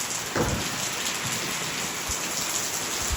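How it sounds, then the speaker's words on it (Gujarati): Heavy rain pours in a sudden summer storm with strong wind, making a dense, steady hiss with a couple of soft low thumps, loud and close, with no talking. "કેવો વરસાદ, ચોમાસામાં પણ આવો તોફાન નથી એવું તોફાન છે અત્યારે"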